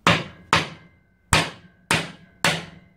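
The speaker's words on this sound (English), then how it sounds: "I've got a small punch and that fits nicely in that groove. So, yep, magic hammer." A hammer strikes a small punch set in a groove of a steering rack: five sharp metallic blows at an uneven, deliberate pace, loud and close, each ringing briefly before the next, with no voices.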